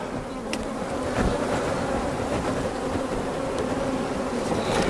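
Honey bees swarm over frames at a backyard hive, a dense, steady buzzing that stays close and loud for the whole stretch with no voices.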